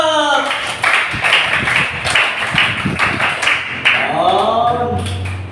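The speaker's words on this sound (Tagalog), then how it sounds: "1, 2, 3, palakpak!" Children clap their hands together in a lively burst during a church children's ministry gathering. The patter of claps is mixed with loud, excited voices talking and shouting.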